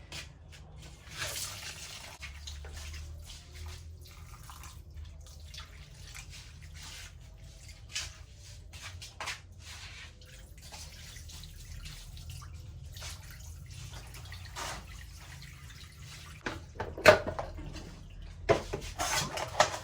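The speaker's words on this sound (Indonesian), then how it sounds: "Nah sekarang saatnya mencuci pepaya yang sudah saya uleni tadi." Raw papaya that has been pounded and kneaded is washed by hand in water, giving soft sloshing, dripping and squishing sounds with occasional light clinks of a bowl, close and fairly quiet throughout.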